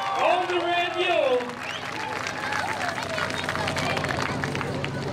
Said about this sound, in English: give her one more big round of applause